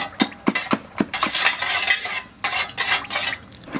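A spoon stirring a teaspoon of salt into half a litre of water in a bowl: a few quick metallic clinks at first, then a swishing, scraping churn, close and loud.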